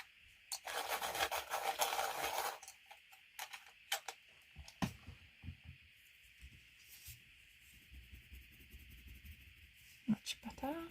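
Colouring pencil turned in a sharpener gives a steady close grinding rasp for about two seconds, followed by scattered light taps and clicks over a quiet room hum.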